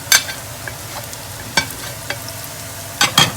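Spices being stirred into garlic, ginger and onion frying in a pan for bhindi gosht, with a few distinct scraping stirs over a soft background sizzle, close and fairly loud, no talking.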